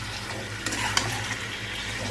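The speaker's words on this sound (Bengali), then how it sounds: "দেখো, এভাবে ভালো করে নেড়ে যেতে হবে।" Marinated chicken is turned in a pan over a medium gas flame, a soft steady sizzle overlaid with scraping and a couple of light clicks from the spoon against the pan.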